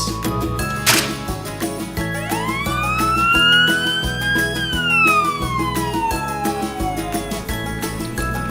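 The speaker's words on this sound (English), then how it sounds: "Rescue ambulance." A wailing ambulance siren from a rescue ambulance, rising and falling in long sweeps over steady background music, loud and close throughout.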